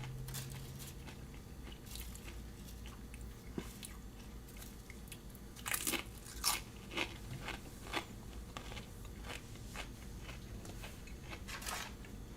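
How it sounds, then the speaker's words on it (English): A chip is crunched during eating, several close, sharp bites and chews clustered in the middle, faint and intimate over a quiet background. "crunching the chip, that's what I'm doing"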